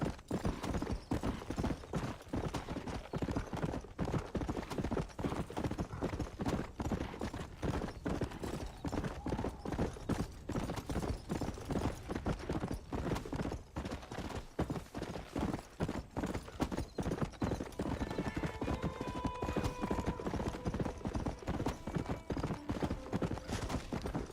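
Horse hooves gallop in a steady, rapid clip-clop rhythm throughout a Red Dead Redemption ride, loud and continuous, with faint music or tones rising near the end.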